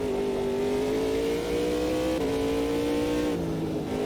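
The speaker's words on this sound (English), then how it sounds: "I know where to shift just by listening to the engine" An LMP2 prototype race car engine in the racing game Automobilista 2 revs loud and steady, its pitch climbing smoothly then dropping briefly at gear shifts before rising again.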